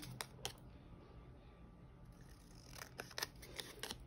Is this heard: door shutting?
no